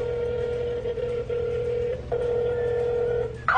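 A phone line plays a steady tone with a few shifting tonal blips while a prank call to a YouTuber is placed, and a short burst closes it out.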